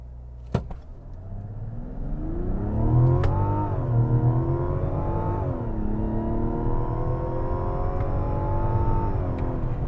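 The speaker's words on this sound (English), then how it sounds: "Let's turn traction off, do a full brake boost." A 2025 Mazda CX-70 launches from a full brake boost with traction control off: after a click the engine revs up loudly and climbs steadily through upshifts, heard close from inside the cabin with no talking.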